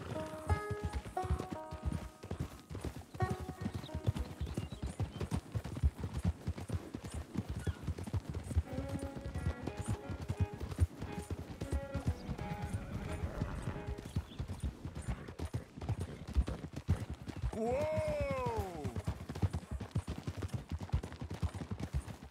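Horse hooves clip-clopping in the video game Red Dead Redemption 2, a steady rapid rhythm of close hoof falls running throughout, with a horse's whinny, distant gunfire and faint voices mixed in.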